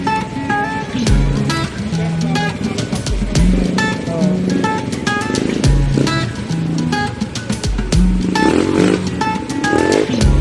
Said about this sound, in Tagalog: Oh, ayun ang tricycle.